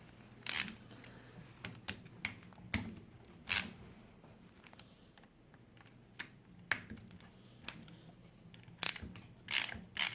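A tool tightens screws on a Redcat RC car during a spur gear swap, giving scattered sharp clicks and small ratcheting taps at irregular intervals against a quiet background.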